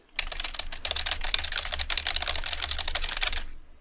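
Fingers type quickly on a Barbie computer keyboard fitted with noise-reduction keycaps. A dense, even run of soft clicks sounds up close for about three and a half seconds, then stops.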